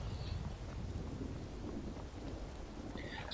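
Steady rain and a deep rolling rumble of thunder fill a Skyrim game scene, dense and continuous, with a faint brighter sound near the end.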